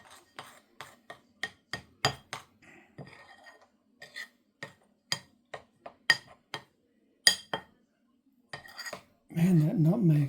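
Metal utensils clink and tap against a bowl in a run of sharp, close strikes as goose meat is mixed with seasonings including nutmeg, ending in a short burst of louder scraping.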